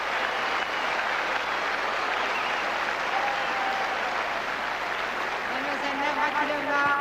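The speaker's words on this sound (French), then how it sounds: "Des applaudissements mérités pour Madame Lloyd." Steady crowd applause fills a tennis stadium at the 1984 Roland Garros women's final, a dense wash of clapping running throughout, with a commentator's voice and faint whistles rising near the end.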